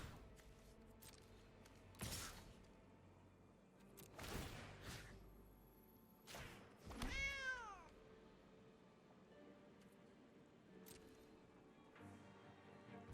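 Cartoonish cat creatures in the card game MTG Arena give a few distinct meows, one rising-and-falling yowl standing out, among scattered game effect sounds and thumps.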